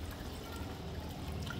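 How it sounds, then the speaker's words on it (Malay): Two litres of water poured into a pot for boiling, a steady close, even rushing splash with no pauses or speech. "So kita tambah air 2 liter ni nah."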